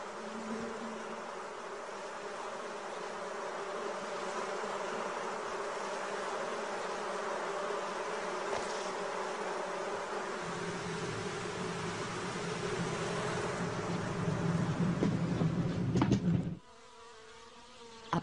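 A swarm of honeybees that has settled in an old tree stump hums in a dense, continuous drone, loud and close, holding steady for most of the stretch before cutting off abruptly near the end.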